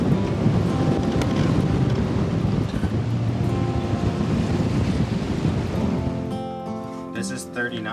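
Strong 30-knot wind on a sailboat at sea roars and buffets the microphone alongside rushing waves, loud and continuous, with a brief whistling tone near the end.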